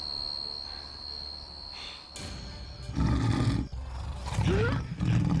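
A tiger roars loudly in a royal palace garden, with deep rumbling bursts over a steady whistling tone and ambient drama-scene noise.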